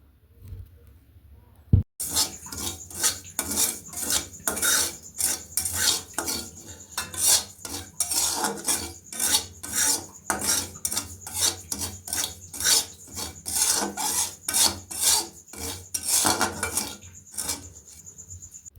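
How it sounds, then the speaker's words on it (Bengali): Semolina roasting in ghee is stirred with a spatula in rapid, rhythmic rasping scrapes against the pan, close and loud, continuing steadily after a single sharp knock at the start. "ওকে আমি ঘি দিয়ে একটু হালকা করে ভেজে দিই"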